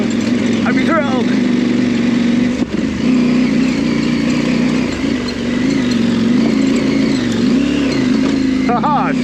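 An adventure motorcycle engine ridden along a trail hums steadily, its pitch wavering as the rider works over uneven ground, with a voice talking over the constant drone.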